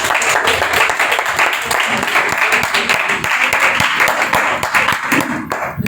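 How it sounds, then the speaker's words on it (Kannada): A church congregation at an indoor meeting claps to welcome the chairperson, producing loud, continuous, dense applause that fills the room throughout. "ಚಪ್ಪಾಳೆ ತಟ್ಟಿ ನಾವು ಸ್ವಾಗತ ಮಾಡಿ."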